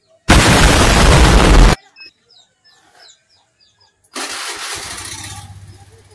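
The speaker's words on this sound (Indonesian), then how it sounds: "Hidupkan mesin." A motorcycle engine roars to life in a loud burst, cuts off, then starts again after a pause and settles into a rumbling idle.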